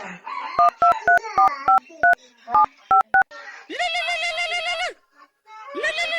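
A run of short, evenly paced telephone keypad beeps sounds close and loud, followed by longer electronic tones with brief silences between them.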